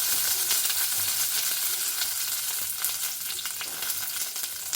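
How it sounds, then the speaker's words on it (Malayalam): Mustard seeds and curry leaves splutter in very hot oil, a dense crackling sizzle with rapid popping bursts, close and steady throughout with no voices. "നല്ല ചൂടുള്ള ഓയിലിലേക്ക് ഇട്ട് കൊടുത്താൽ വേഗം പൊട്ടിക്കോളും കടുക്."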